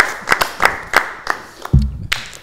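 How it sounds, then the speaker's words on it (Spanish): A studio audience greets a guest named Gerson on a football-themed show with a handful of scattered, separate claps, followed by a brief low rumble and voices. "quiero un fuerte aplauso para Gerson"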